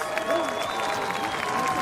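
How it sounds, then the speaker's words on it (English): Steady crowd applause at a distance at a surfing championship at Lower Trestles, continuous clapping under a talking voice, with faint tonal noise running through. "Give it a round of applause to all competitors today."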